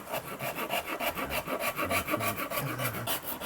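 A Shinto rasp carves a wooden guitar body in steady back-and-forth strokes, each producing a close, coarse rubbing scrape in an even rhythm with no talking.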